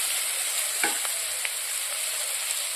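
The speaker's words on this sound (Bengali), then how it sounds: "এখন লঙ্কা পেঁয়াজ রসুন হালকা করে ফ্রাই হয়ে গেছে এবার আমি এখানে সেদ্ধ করে রাখা কচুর লতিটা দিয়ে দেব" Chili, onion and garlic frying in a pan before boiled taro stolons go in, a steady hissing sizzle with a couple of brief stirring clicks, close and continuous without voices.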